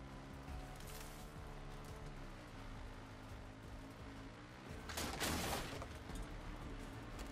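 Gunfire in Far Cry 6 while shooting at the player's own motorbike, a faint rattling burst of shots over a low engine rumble in the background.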